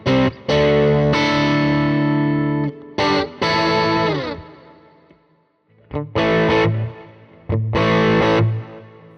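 An ESP LTD SN-1000FR electric guitar on its bridge pickup in mode 3 plays loud distorted chords, several sustained strums with brief gaps and a fading ring-out before more punchy hits.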